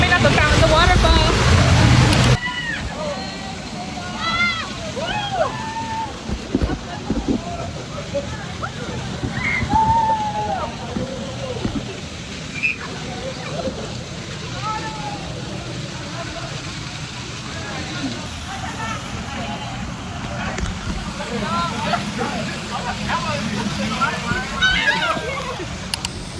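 Water sloshes and splashes steadily around swimmers heading toward a waterfall at Amber Cove, with a constant rushing wash underneath and people talking and calling out over it throughout.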